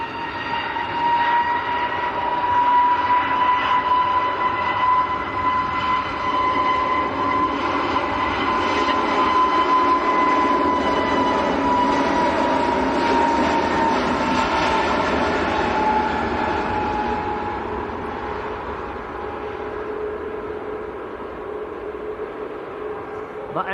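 A Jet2 airliner rolls down the runway for takeoff at Manchester Airport, a steady, distant roar with a high engine whine that holds for about twenty seconds and then eases slightly.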